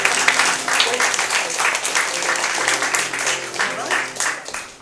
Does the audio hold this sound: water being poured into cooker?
no